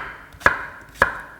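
A knife slices a pear for summer kimchi, giving two crisp, close chopping taps against a cutting board about half a second apart, with no talking.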